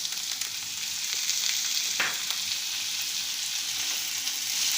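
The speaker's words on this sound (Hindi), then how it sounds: "मेरे आलू कच्चे हैं तो अब मैं इसमें आलू डाल रही हूँ" Raw potato pieces frying in hot oil in a pan for sabudana tomato khichdi, a steady loud hiss and sizzle throughout with one brief scrape midway, close up and without speech.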